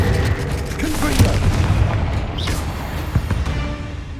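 A Confringo spell explodes in Hogwarts Legacy with a rolling boom that sustains over game noise. A voice speaks over it.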